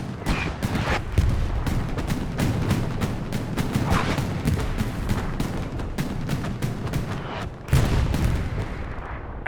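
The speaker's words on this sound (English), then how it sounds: "it's a lot of explosions, that's for sure" Dense, continuous barrage of explosions and artillery fire from a competitive team-based war video game match on the SME map, with overlapping booms and cracks throughout and a heavier blast near the end.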